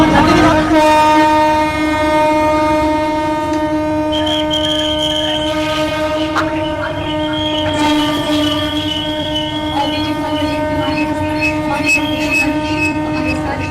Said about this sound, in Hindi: रेल मंत्री अश्विनी वैष्णव ने हरी झंडी दिखा करके 3 अमृत भारत ट्रेन का उद्घाटन किया।